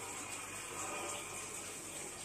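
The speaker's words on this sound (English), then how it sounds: "the small waterfall features" A small garden waterfall feature beside a fish pond at a Chinese-themed house with a private pool in San Sai, Chiang Mai. Water splashes in a steady, continuous rush, close and even, with no talk.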